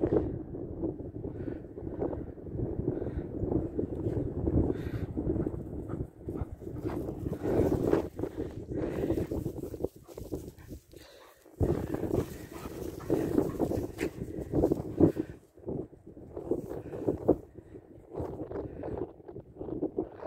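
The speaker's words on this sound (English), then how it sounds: "I suppose I'm going against the wind actually" Wind buffets a microphone outdoors while someone plays ball with two dogs, a steady low rumble of gusts running loud and continuous, dipping briefly before surging again.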